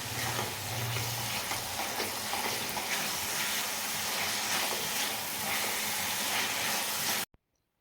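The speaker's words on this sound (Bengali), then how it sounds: "এবার সবগুলো মশলা আরও কিছুক্ষণ সময় নিয়ে আমি ভালো করে কষিয়ে নিচ্ছি" Spice paste fried and stirred in oil in a pan for a fish curry, giving a dense, steady sizzle and hiss that runs close and loud, then cuts off abruptly near the end.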